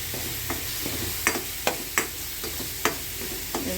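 Onions frying in hot oil with garlic and mustard seeds for Andhra crab curry, steady close sizzle with repeated clacks of a spoon stirring the pan.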